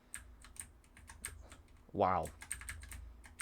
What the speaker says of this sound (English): I am using my keyboard to do this.